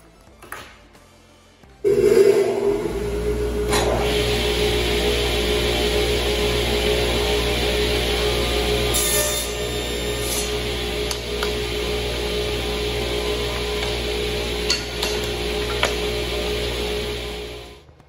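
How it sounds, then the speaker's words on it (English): A power saw rips wood strips to length for an American flag build, starting abruptly and running as a loud, steady whine with a tonal hum for about fifteen seconds before spinning down. "I'm gonna go ahead and rip these down to proper length"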